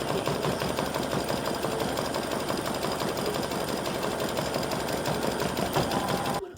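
An embroidery machine stitches the outline of an appliqué, giving a continuous, fast, rattling mechanical whir at a steady level that cuts off at the very end.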